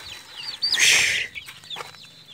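Young chicks peep nearby in high, thin chirps, with a short burst of louder, rougher noise near the middle of the brief stretch.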